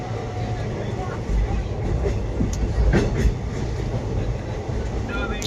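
Steady rumble and rhythmic clatter of a passenger train in motion heard from inside a carriage, just departed Howrah and passing Liluah in fog, with occasional louder jolts of the wheels.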